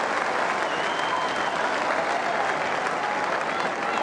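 A large football crowd at a 2001 AFL match between Brisbane Lions and Essendon applauds in a steady, dense wash of clapping that holds evenly throughout without pause.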